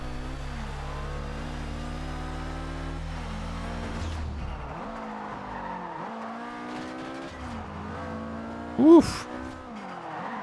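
Car drifting in Forza Horizon 2 on Xbox One, engine droning and revving steadily with brief tire squeal, a sharp tonal chirp near the end, while someone comments over the game audio.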